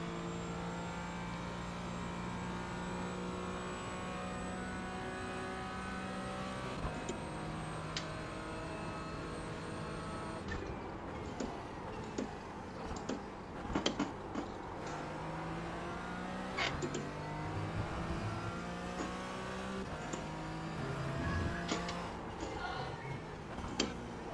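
A race car in a VR racing sim at Virginia International Raceway brakes hard into a corner, its engine note winding down through downshifts in a steady, continuous drone with sharp blips, heard alone without talk.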